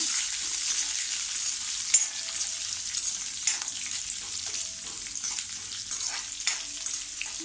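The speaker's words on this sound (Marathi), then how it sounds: "थोडं परतूया." Green chilies sautéing in a pan of oil for a potato bhaji, a steady close sizzle and fry with occasional stirring clinks, no voices.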